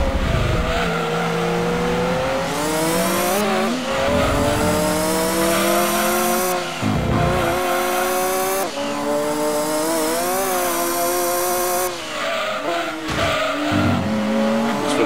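A Dodge Viper races in Gran Turismo 2, its engine climbing loudly through repeated gear shifts, with brief drops between shifts and tire squeal mixed in during cornering.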